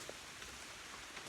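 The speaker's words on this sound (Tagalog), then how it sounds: "Nabot na tayo ng ulan." Rain falling in the mountains, a faint, even hiss of steady rainfall with scattered drop ticks, continuous and without voices.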